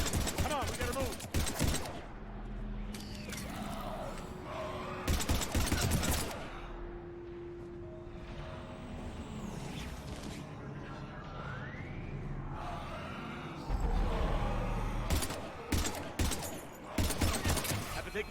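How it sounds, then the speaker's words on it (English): Bursts of rapid gunfire in the Mass Effect 3 video game, with clusters of sharp shots separated by quieter stretches, loud and punchy, with echoes and game sounds between the volleys. "we're taking heavy fire"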